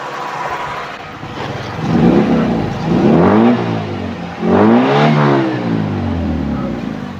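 A 1990 Toyota Twincam engine revs up hard twice to high RPM, pitch climbing and falling with each push, loud and close over a steady idle.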